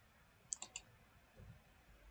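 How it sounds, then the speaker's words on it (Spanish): Three quick, faint computer mouse clicks in close succession while selecting and deleting items in SPSS statistics software, followed by quiet room noise. "Le doy un clic y le doy eliminar."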